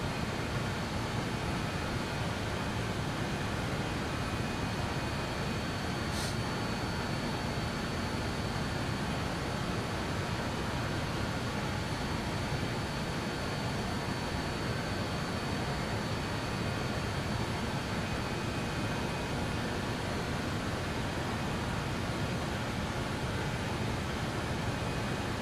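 Avro RJ100 jet engines at climb power in Microsoft Flight Simulator 2020 produce a dense, steady broadband roar with a constant whine, unchanging and loud for the whole stretch.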